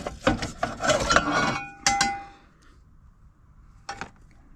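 Rusty cast iron skillets clank and ring against each other as they are handled, a cluster of metallic clangs followed by a few isolated ringing hits with quiet gaps between.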